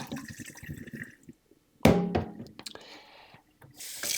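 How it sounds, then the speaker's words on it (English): Leftover liquid from a Bissell Crosswave HydroSteam tank poured out, a sudden splashing gush that starts midway, runs for about two seconds, then trickles and drains away close to the microphone. "So you can see here what I still have left. I'm just gonna dump that out."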